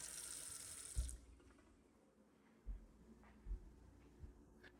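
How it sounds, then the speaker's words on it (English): Water runs from a kitchen tap in a rental bungalow, a steady hiss that stops after about a second, followed by quiet room tone and a few soft knocks. "Running water."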